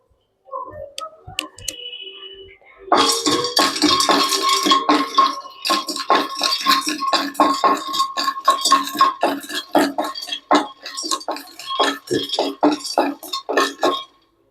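Peanuts roasting in a pan for Diwali somas, the nuts rattling and ticking against the metal in a dense, steady patter as they are stirred, close and clear with no talk.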